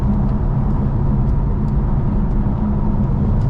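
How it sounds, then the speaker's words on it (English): A 2020 BMW F82 M4 engine droning steadily while driving, a constant low rumble with road noise, heard from inside the car with no talking. "I think it's just because my car is loud."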